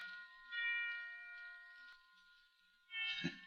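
Church bells ring with sustained, clear tones that fade slowly, then strike again louder near the end, heard at a moderate distance.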